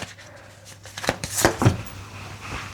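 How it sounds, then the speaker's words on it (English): Tarot cards are shuffled close by in a few quick papery riffles and snaps that cluster in the middle, with soft handling noise before and after and no talking. "You saw me shuffling, you heard it."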